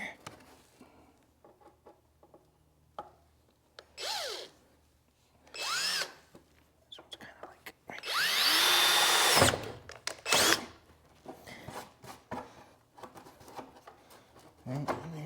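A power drill runs in several short bursts while a Vaydor body kit is fitted to a car, whirring up and down at close range, with one longer burst, between clunks and people talking nearby.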